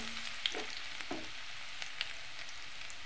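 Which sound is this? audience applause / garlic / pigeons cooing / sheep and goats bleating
garlic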